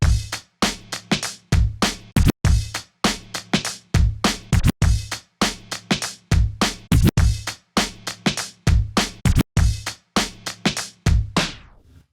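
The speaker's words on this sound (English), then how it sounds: "I'll do a little baby scratch before I drop the next record in" Turntables beat juggle a drum loop with a baby scratch, and the punchy kick and snare hits start and stop in chopped, repeating bursts with short gaps between them. The loop stays close and clear, with no talk.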